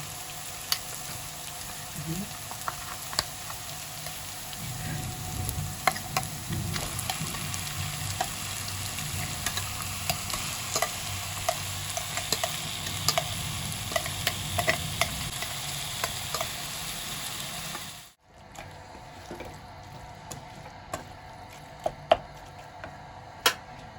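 Chicken paste frying in a pan with garlic, giving a steady sizzle broken by scattered ticks and clicks from the stirring spoon, then a brief drop before quieter sizzling carries on.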